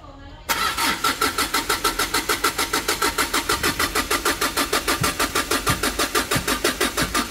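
A Hyundai Porter 2 truck's D4CB diesel engine cranks and fires up, then settles into a loud, rapid rhythmic idle clatter close by, with voices in the background.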